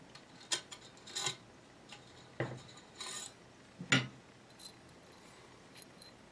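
Small metal parts of a Type 97 bullpup rifle being handled during disassembly, the piston and spring giving scattered light clicks and clinks, several sharp taps spread unevenly at close range with no talk.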